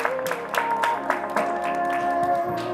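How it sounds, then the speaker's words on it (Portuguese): Guests clap along at a birthday party in Guaianazes, with a dense, steady patter of hand claps and sharper accents over a tonal musical backdrop. "Pode bater palmas aí,"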